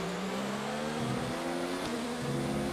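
F1 car engine in the F1 2019 racing game on the Bahrain circuit, a steady droning hum held continuously with slight pitch wavering, loud and up close with no talk.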